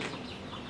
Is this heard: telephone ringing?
no